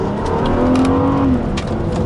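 A 2010 Hyundai Azera with a 3.8-litre V6 accelerating, heard from inside as a loud, steady engine drone with a rising tone, close and continuous for about two seconds.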